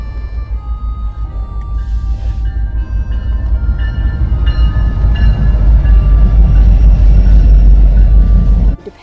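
A train rumbles past nearby at Edmonds Beach, its heavy low roar building steadily and staying loud for several seconds before cutting off abruptly.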